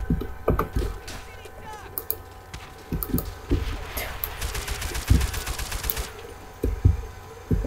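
Rapid automatic gunfire and scattered single shots from the Call of Duty: World at War multiplayer match on PC, bursts rattling steadily across the whole stretch at close range with faint game effects underneath.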